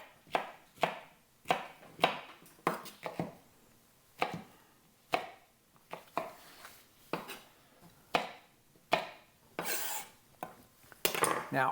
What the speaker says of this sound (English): I'm just going to split it lengthwise like that, and then go crosswise about a little less than a half an inch here